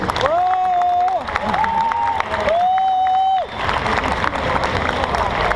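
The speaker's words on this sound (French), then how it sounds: "Je crois qu'on peut les applaudir très très fort, s'il vous plaît." Conference audience at a festival in Marseille applauding and cheering, with loud whistles and whoops rising over sustained clapping and crowd noise.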